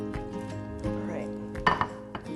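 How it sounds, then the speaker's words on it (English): A spoon scrapes and clinks against a pot while catfish gumbo is stirred, a few soft knocks followed by a cluster of sharper metallic taps near the end, close and moderately quiet. "Stir that around really well"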